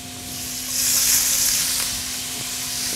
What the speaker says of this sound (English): We're going to add our capers.